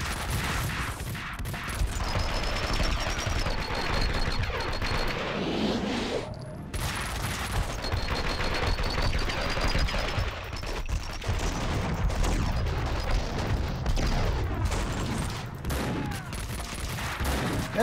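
Continuous rapid gunfire and sharp shots in Max Payne 2 rattle almost without pause, dense and loud, with game music and effects mixed underneath.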